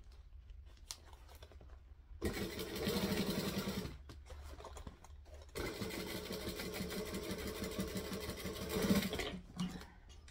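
A sewing machine stitches down piping on fabric in two long, steady runs of close, moderately loud mechanical whirring, with quiet pauses and handling sounds between them.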